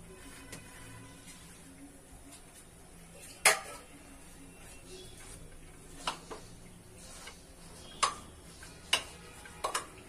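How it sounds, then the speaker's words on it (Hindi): A spoon stirs mixed dal with spinach in a cooking pot, giving a few sharp metallic clinks and taps against the pot at irregular intervals over a quiet background, close and moderately loud, with no talking. "अब एक बार हम इसे हिला देते हैं।"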